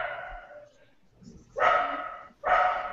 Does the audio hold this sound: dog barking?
yes